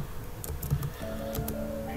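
Keys click on a computer keyboard in a short, uneven burst of taps over a faint steady hum.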